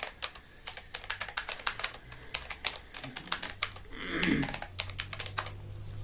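Computer keyboard typing while an online death certificate form is filled in on a web portal: irregular bursts of crisp key clicks with brief pauses, close and fairly loud, plus a short soft rustle partway through.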